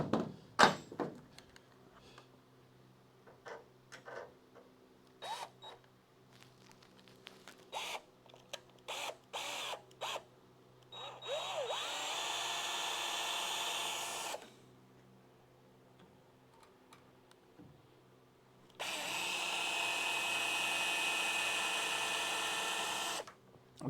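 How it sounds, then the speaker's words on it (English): A power drill whirs in two sustained bursts of several seconds each, separated by quiet stretches with scattered clicks and knocks. "now we're gonna go through these with the drill."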